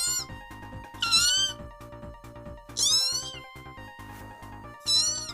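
A human voice imitates an angry kitten with three loud, high, strained meow-like yowls spaced apart, over a soft background of steady music.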